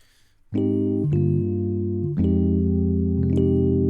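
A Numa Compact 2x synthesizer plays a few sustained notes on its default sound with sharp attacks, changing pitch every second or so, clean and alone.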